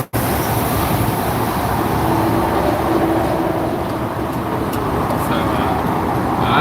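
Loud, steady road roar fills the cab of a pickup truck driving out of the city, a dense broadband rumble that barely varies.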